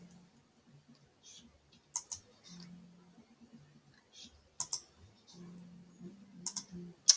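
Computer mouse clicks while working with the polygonal lasso in Photoshop, sparse sharp clicks spaced a second or so apart, close and quiet, with soft speech murmuring between them.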